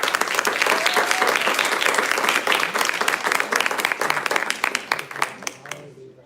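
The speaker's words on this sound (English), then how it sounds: "I think there is one more round of applause" Sustained applause from a crowd at a recognition ceremony, dense and steady clapping that gradually thins out and fades toward the end.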